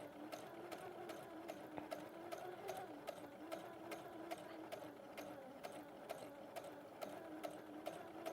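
A sewing machine stitches delicate fabric in a steady, quiet run, its needle ticking in an even rapid rhythm with a soft mechanical hum beneath.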